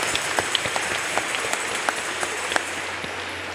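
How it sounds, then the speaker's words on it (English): A church audience at a Saturday evening service applauds, a steady wash of many hands clapping at a moderate distance, fairly quiet, with no speech. "another round of applause"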